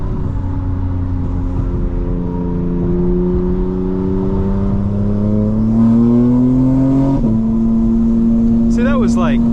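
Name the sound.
car engine intake sound under partial throttle acceleration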